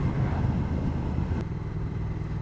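A Triumph Thruxton R motorcycle fitted with standard EU exhaust pipes rumbles steadily while being ridden, its engine a continuous low, even drone with no talk.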